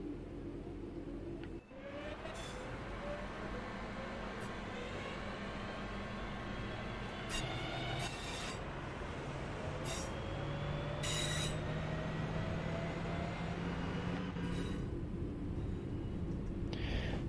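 A Class 323 electric train in Train Sim World 5 pulls away, a steady rumbling drone with rising motor whine that builds gradually, punctuated by a few brief clicks and clunks.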